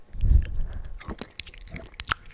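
Smarties candy being chewed close to the mic in ASMR style, with crunchy bites, wet squishy chewing and small clicks over about two seconds, no talking.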